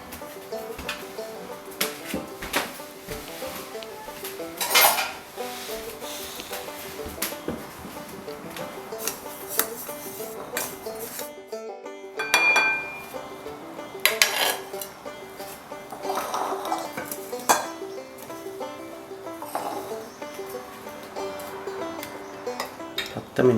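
Semolina and baking powder stirred together in a bowl for a Moroccan cake, giving a run of scraping strokes and light clinks of a utensil against the bowl, moderately close with an occasional louder knock.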